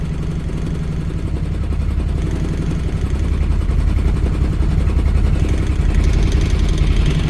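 A Tillotson 212E single-cylinder kart engine in a 2007 Mokai runs steadily with the choke out, a loud, close, rough low-pitched chugging with a slight rise in intensity partway through and no talk.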